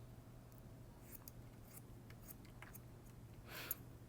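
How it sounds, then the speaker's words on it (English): Barber's scissors snipping hair on the top of the head, a few faint crisp snips spread across the clip, with a slightly stronger cluster near the end over a low steady hum. "you lift it, and I'll cut off 2 fingers"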